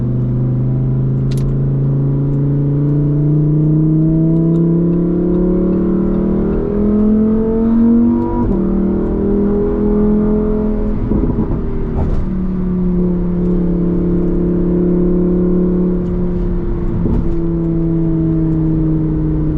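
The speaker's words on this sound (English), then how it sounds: "those crackles and pops. You hear them consistently." A loud Lamborghini Huracan EVO Spyder engine with standard exhaust drones and revs steadily, its tone rising and falling, with occasional sharp crackling bursts from the exhaust.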